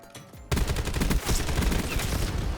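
An AK-27 rifle from Call of Duty: Black Ops 7 multiplayer fires a sustained automatic burst, loud and close, with shots hammering in a fast even rhythm after a brief quieter start.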